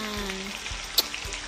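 A salmon head fries in butter in a pan with a soft, steady crackle and bubbling. The frying is moderately close, with faint clicks and one brief sharp tick. Low background tones run underneath, but no one speaks.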